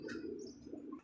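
Lahori pigeons coo softly at close range, a steady low cooing with a few brighter chirps mixed in, with no talking.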